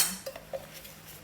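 A camping kettle, plates and spoons are handled while packing, giving a few quiet metallic clinks and taps close by, spaced out over a soft background.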